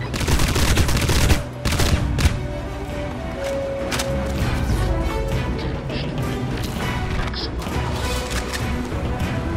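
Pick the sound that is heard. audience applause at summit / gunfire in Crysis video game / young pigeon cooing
gunfire in Crysis video game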